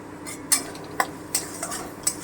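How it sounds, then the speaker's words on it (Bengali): Turmeric and green chilli paste frying in a pan, a soft low sizzle with a few sharp clinks and scrapes of a spoon against the metal, close and fairly quiet. "আমি হালকা করে একটু ভেজে নেব"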